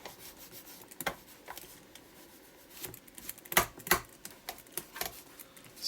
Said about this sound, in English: Excuse the noise of my clip flapping.